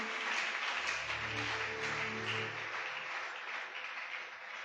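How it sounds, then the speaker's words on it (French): A church congregation claps and applauds steadily, a dense, fairly loud wash of hands that slowly thins toward the end, with a low organ or keyboard chord sounding underneath. "On peut acclamer Jésus."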